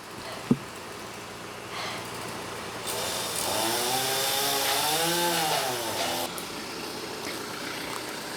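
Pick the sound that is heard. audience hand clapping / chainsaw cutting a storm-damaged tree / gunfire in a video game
chainsaw cutting a storm-damaged tree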